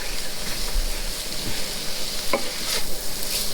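Dirty rice ingredients brown and sizzle steadily in a hot pan while a utensil occasionally scrapes and stirs, a continuous frying hiss close by.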